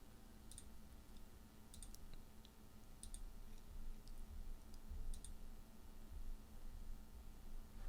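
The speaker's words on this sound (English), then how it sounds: "just select it and just keep on clicking until you find one that you like" Mouse clicks while choosing options in a Figma UI design session, sparse sharp ticks in small clusters, fairly faint over a steady low background hum.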